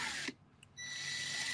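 A power drill bores through an acrylic tumbler, a steady high whirring grind that stops briefly and then resumes, close and fairly faint.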